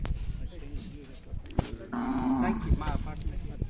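A Khillar cow lows once in a long, deep moo amid a noisy outdoor cattle fair with faint voices.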